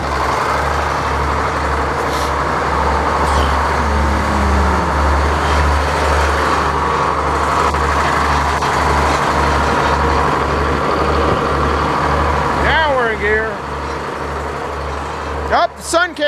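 A sawmill engine runs with a steady low chugging idle, close and continuous, as a voice comes through briefly near the end.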